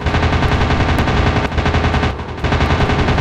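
Rapid, continuous aircraft machine-gun fire from the WW2 dogfight game Warplanes: WW2 Dogfight, loud and close, a dense rattling burst with a brief dip before the firing resumes.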